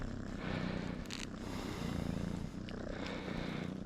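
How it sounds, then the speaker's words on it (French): A small cat purring near the microphone in a makeshift workshop, a soft, low, continuous rumbling purr with faint scraping and rustling in between, no talk. "Viens, petit chat."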